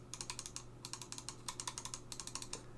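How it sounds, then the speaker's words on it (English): Crisp left and right clicks of a Roccat Burst Pro gaming mouse, sharp close-up taps in quick regular bursts of several clicks each, separated by short pauses, over a faint steady hum. "Here's a sound test for those of you who are interested of the left click and of the right click."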